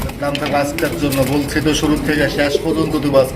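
Lahori pigeons coo in low, rolling calls close by, mixed with people talking over them throughout.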